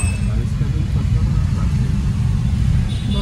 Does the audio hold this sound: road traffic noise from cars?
yes